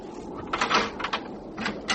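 A door swings shut with a few knocking thumps, followed by sharper clicks and rattles as it is locked, close and moderately loud, with no voices.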